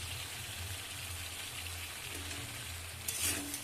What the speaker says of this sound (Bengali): মশলার সাথে আর লাউটার সাথে ভালো করে কিছু সময় কষিয়ে নিতে হবে